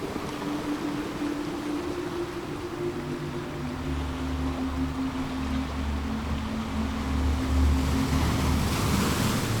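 Ocean waves wash in a steady, continuous surge close by, broad and rushing with a low rumble underneath, and no voices are heard.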